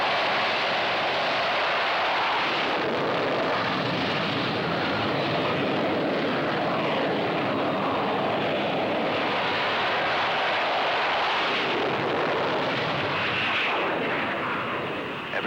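A 20-ton military jet is catapulted from a standing start in the Vietnam War era, producing a loud, sustained broadband roar at full power that holds steady for about fifteen seconds and then tails off.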